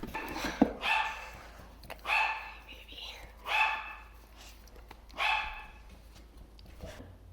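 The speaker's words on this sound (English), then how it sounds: "My dogs were barking" Dogs bark indoors in four separate, moderately loud bursts spaced a second or more apart, with a soft whispering voice and quiet room sound in between.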